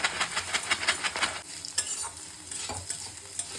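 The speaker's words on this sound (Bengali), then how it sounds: "এবার ওই তেলটার মধ্যে আমি চিড়েটাকে ভেজে নেব।" Flattened rice (chira) fries in hot oil in a pan where potato and cauliflower were fried before it, opening with a quick run of rhythmic stirring scrapes over the sizzle and then settling to sparser stirs.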